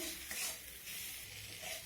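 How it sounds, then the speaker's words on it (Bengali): Cauliflower greens with fried shrimp stirred in a hot pan, giving a soft, steady sizzle with light scraping of the spoon, close and fairly quiet, with no talking. "এখন আমি এর মধ্যে দিয়ে দিলাম ভেজে রাখা কিছু চিংড়ি মাছ। দিয়ে সব কিছু ভালোভাবে নেড়ে চেড়ে নিলাম।"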